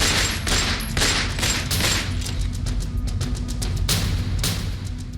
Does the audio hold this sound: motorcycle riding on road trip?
no